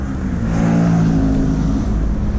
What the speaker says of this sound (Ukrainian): я їхав дуже швидко, заїхав на пісок